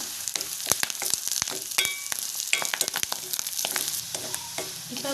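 Fennel seeds, curry leaves and dried chilies frying in hot oil for a Sri Lankan coconut chutney, with a close, crackling sizzle and sharp popping spatters over a steady hiss.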